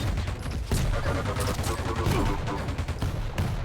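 Machine gun fire in a Quake Champions duel, a dense continuous burst of rapid shots running throughout, loud and close, layered with other game effects and music.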